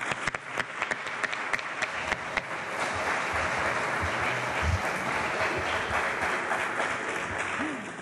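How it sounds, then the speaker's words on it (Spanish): Audience applauding a folk group of pandereteres at a memorial festival in Asturias, starting with a few scattered claps that swell into sustained, dense applause; some faint voices are mixed in. "Así que un aplauso para ellos y otro para Diamantina."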